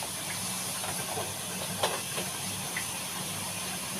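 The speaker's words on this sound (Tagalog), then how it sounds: "Dito ko na lang siya hugasan sa may lababo." A dirty air-conditioner part is rinsed under a running tap in a sink, a steady close hiss of flowing water with a few light splashes and knocks.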